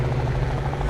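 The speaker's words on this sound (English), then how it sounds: "Shit! Military choppers!" Military helicopters in the Liberated video game make a continuous, heavy rotor drone with a low throbbing buzz, loud and close, filling the whole moment without a break.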